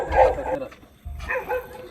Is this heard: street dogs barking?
yes